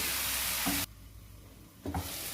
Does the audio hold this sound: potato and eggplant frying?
yes